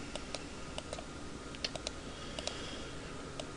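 Repeated mouse clicks while blending in drawing software, light quick ticks in an uneven rhythm, close but faint over a low background hiss.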